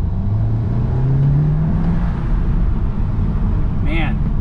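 A 2015 Audi S3 with an APR intake, driven on its first run after the install, gives a loud continuous engine drone and road roar from inside the cabin as revs climb, with a short voice at the end.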